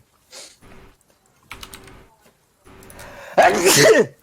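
A single loud, sharp sneeze near the end, preceded by quiet shuffling and faint keyboard-like clicks, during a tabletop role-playing game session.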